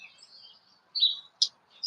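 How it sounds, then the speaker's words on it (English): A bird gives a few thin, high chirps and a short trill, close and clear against a quiet background, with no one talking. "Oh no, it's a bird. It's a bird."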